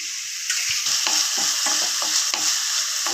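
Thinly sliced onion dropped into about two spoons of hot oil in a pan, hissing in a steady, close, loud sizzle with faint stirring scrapes and no talking.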